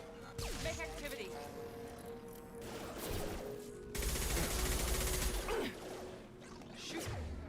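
Sci-fi gunfire and explosions from Mass Effect 2 on Insanity difficulty, with rattling bursts, whooshes and a sustained heavy barrage mid-fight, moderately loud under occasional voices.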